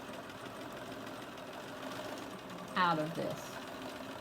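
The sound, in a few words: sewing machine stitching a fabric tube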